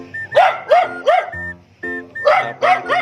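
Several dogs barking in short repeated bursts near a house under construction, loud and close, with a brief pause before another run of barks.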